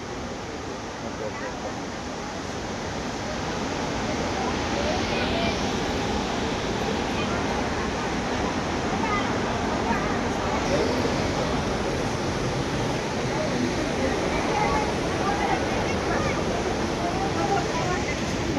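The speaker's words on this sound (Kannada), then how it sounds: "ಇಲ್ಲೆಲ್ಲ ನೀರು ನೋಡಿ ಯಾವ ರೀತಿ ಹೋಗುತ್ತೆ" A waterfall in Chamarajanagar district rushes steadily, a broad, unbroken roar of flowing water that holds at an even level throughout, with faint voices of visitors mixed into the wash.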